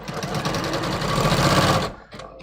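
Sewing machine stitching down fabric pleats, a steady close rapid whir running continuously for about two seconds before stopping abruptly, then a quiet pause.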